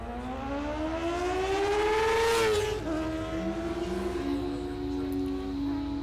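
Honda CBR 600 F4i motorcycle making a drag racing pass at Mo-Kan Dragway, its engine whining up through rising gears to a loud peak, then a shift and a fresh climb as the pass continues with steady outdoor noise beneath.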